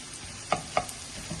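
Dal lentils being stirred and pressed in hot oil in a pan, Vidarbha-style mokli dal, with two brief scraping stirs standing out over a faint, steady sizzle.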